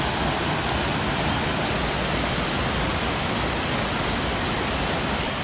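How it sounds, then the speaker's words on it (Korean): Loud, steady rush of flowing water fills the whole clip, a dense continuous roar of a rain-swollen mountain stream close by on Biseulsan, Daegu. "물소리가 졸졸졸 흐른다"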